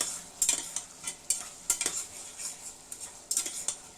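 Spiced hilsa fish curry with vegetable stems stirred and frying in a pot, a utensil scraping and clinking against the metal in irregular strokes over a steady soft sizzle, close and moderately quiet with no talk.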